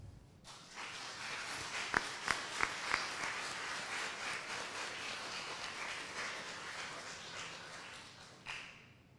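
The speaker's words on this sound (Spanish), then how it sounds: "pido un cálido aplauso de todos para nuestro ilustre escritor Augusto Rua Basto" Audience applause in a congressional auditorium for the writer Augusto Roa Bastos, a sustained wash of clapping heard from a distance, with a few sharp louder claps near the start and a brief swell near the end.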